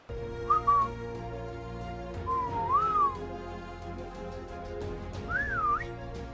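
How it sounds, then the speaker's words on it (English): Loud human-style whistling in the video game Pokémon ARK, three separate rising and sliding whistle calls spaced across a backdrop of low droning game music. "So I summoned Lebronto James, whistled loudly"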